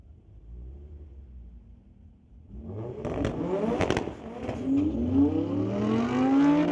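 At a Friday night street-legal drag race at Mission Raceway Park, a 1985 Porsche 944 and an Audi R8 start from a low rumble. Engines then rev hard, with several sharp backfire pops, and keep climbing loudly as the cars accelerate away.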